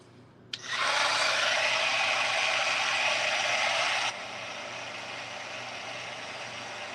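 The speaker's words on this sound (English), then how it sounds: "All right, let's get my heat tool." A heat tool switched on with a click, then a loud steady blowing hiss for a few seconds before it drops to a lower constant whir.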